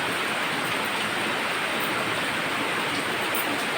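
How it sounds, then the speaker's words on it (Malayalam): A constant, loud wash of heavy rain, even and unbroken throughout. "മഴ തകർത്ത് പെയ്യുക ഞാൻ പറയുന്ന വല്ല കേൾക്കുന്നോ"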